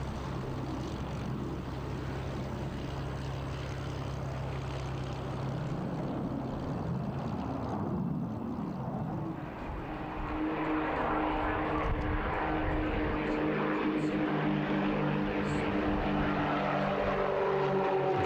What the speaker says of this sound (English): And their aircraft are Extra 300s. Avco Lycoming piston engines,